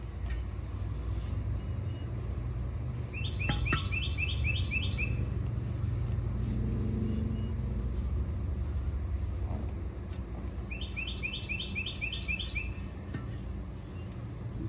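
Birdsong outdoors on a mild Florida spring day, with two clear bursts of rapid repeated chirps from a nearby bird over a steady background drone of insects and distant low rumble.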